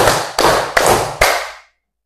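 A classroom group claps in unison in an Indonesian clapping drill, four sharp, evenly spaced claps close by, the last ringing out into silence.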